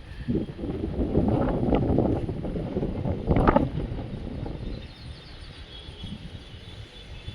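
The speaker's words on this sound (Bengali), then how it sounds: "দেখো, এত হাওয়াও দিচ্ছে, খুব হাওয়া দিচ্ছে ছাদে" Strong wind gusting across a rooftop, loud rumbling buffeting against the microphone that swells through the first seconds and then eases to a lighter, steady blow.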